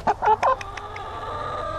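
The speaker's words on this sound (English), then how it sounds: "And a chicken. A chicken!" A backyard chicken near an egg basket clucks three quick times up close, followed by a softer drawn-out tonal call fading under low background noise.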